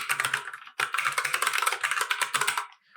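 Computer keyboard typing in fast, dense bursts while entering sudo commands, with a short pause near the start, close and steady without speech.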